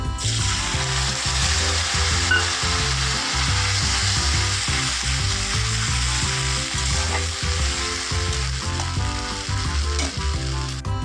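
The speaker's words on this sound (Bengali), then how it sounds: "এবার আমি বেটে রাখা আদা রসুনটা দিয়ে দিলাম" Ginger-garlic paste added to browned onions in a hot pan gives a loud, steady sizzle with stirring scrapes, and music plays underneath throughout.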